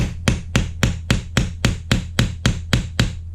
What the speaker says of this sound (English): just take my vintage ball peen hammer and just